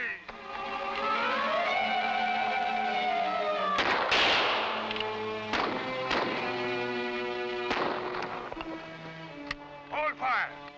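Musket gunfire crackles through a frontier battle, several sharp loud shots spaced irregularly amid shouting voices and clatter.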